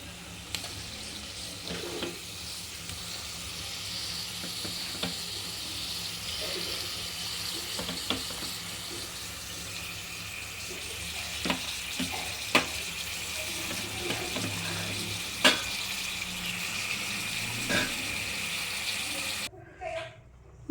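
Shrimps frying in a pan with salt and turmeric, a steady low sizzle running throughout, with occasional sharp crackles and pops and a spoken voice over the cooking.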